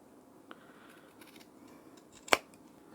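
A single sharp snip of scissors cutting sewing thread near a knot, crisp and close, following a faint earlier click in an otherwise quiet room.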